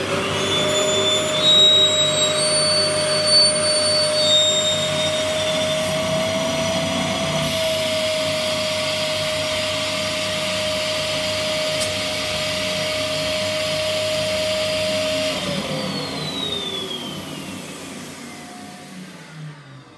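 A vacuum cleaner fitted with a collection tank sucks grease from a long drain pipe, giving a loud, steady whine with a constant tone that drops near the end as the motor winds down.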